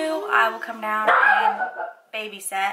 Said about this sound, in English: she's a pug and she's a barker